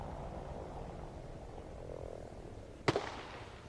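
M203 grenade launcher fired in Arma Reforger: a single sharp, loud crack with a brief follow-up thump near the end, over a steady low ambient rumble.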